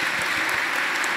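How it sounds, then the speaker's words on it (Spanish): Congregation clapping in a church during a solemn Sunday Mass, a brief burst of steady, fairly loud applause from many people. "Bueno, un aplauso, Miguel,"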